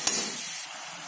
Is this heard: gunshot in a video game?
no